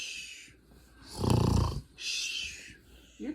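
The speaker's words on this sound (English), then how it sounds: "Hey, snore." A person snores in loud, rasping bursts, one long heavy snore in the middle and a hissing breathy one after it, close up and with no talking.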